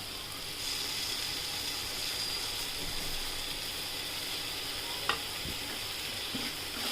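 Tomatoes with mint and coriander sauté in a hot pan, giving a loud, even sizzle and hiss throughout, broken by a single sharp clack of a utensil near the end.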